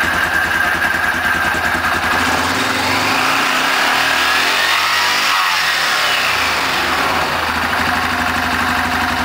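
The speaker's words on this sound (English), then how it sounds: "start the vehicle and rev it up to make sure that you have plenty of belt clearance" A Yamaha Rhino 660 UTV engine runs loud and close, revving up and down in a smooth sweep after a clutch sheave and clutch kit installation, with no speech.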